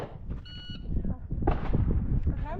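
A short electronic timer beep at a pistol shooting match, a brief steady tone near the start followed by outdoor noise and talk from people nearby.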